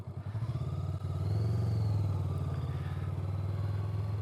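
A cruiser motorcycle rolls at slow speed during a braking drill, its engine giving a low, steady, loping rumble that swells slightly, then holds at an even idle-like throb, close and continuous with no talking.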